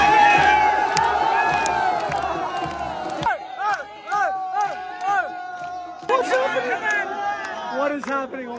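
A crowd cheering and shouting at a polo match in Pakistan as a dance party forms on the pitch, with loud excited voices, whoops and high-pitched calls overlapping, plus brief pauses between bursts.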